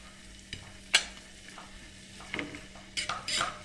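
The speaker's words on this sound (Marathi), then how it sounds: "थोडंसं तेल टाकून सनी लसूण अद्रक टाकणार आहे आणि कांदा पण टाकून घेणार आहे" Garlic, ginger and onion hit hot oil in a pan with a soft, steady sizzle, broken by a few sharp stirring clinks and scrapes of a utensil against the pan, heard up close with no talking.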